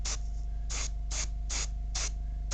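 An airbrush sprays grey paint in five short hissing bursts, held a few centimetres from the surface. A steady low compressor hum runs underneath throughout.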